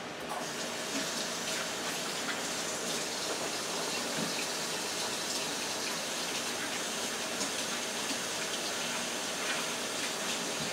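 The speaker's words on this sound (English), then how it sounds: "I'm going to wash my hands" Steady running tap water gushing into a sink while hands are washed in a home kitchen, a continuous even wash of water sound with no talking.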